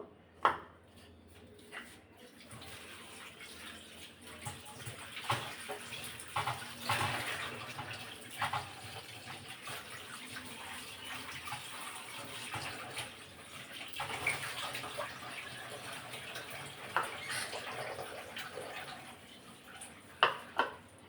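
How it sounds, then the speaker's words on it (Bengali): Water splashes and runs while peeled onions are washed by hand in a kitchen, with irregular sloshing bursts and trickles at close range and no talking. "পেঁয়াজগুলো ছিলে নিয়েছি আর এখন একটু ধুয়ে নিব"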